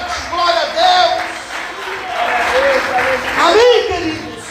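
A church congregation claps and cries out in worship, bursts of applause rising and falling under loud voices, with a preacher's speech and shouts overlapping throughout.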